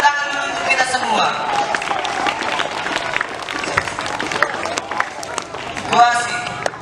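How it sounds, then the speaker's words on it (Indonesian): Schoolchildren at an elementary school gathering clap together, a loud, lively burst of hand claps mixed with cheering and chatter from the group. "Tepuk tangan dulu untuk kita semua."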